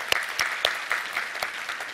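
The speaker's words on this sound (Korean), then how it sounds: "우리 하나님께 감사의 박수를 드리겠습니다." Church congregation applauding during a Sunday worship service, a steady rhythmic clatter of many hands with regularly spaced accents, fairly close and filling the room with no voices over it.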